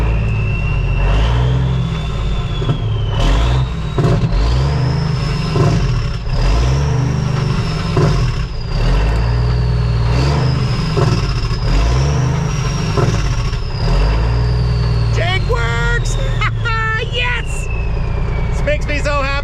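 A truck's engine brake engages with a loud, continuous low rumbling bark and rhythmic pulsing as the engine slows and rises and falls in pitch, heard from inside the cab with a whining tone above it and a brief squeal of air near the end.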